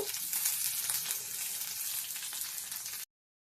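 Chicken with carrot and beetroot fries in a pan, a steady close sizzle and hiss running evenly for about three seconds before stopping abruptly.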